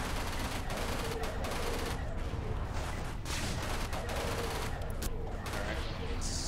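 Spaceship weapons fire continuously in Everspace, a dense loud barrage of rapid shots and blasts layered over engine roar, with a voice talking beneath the action.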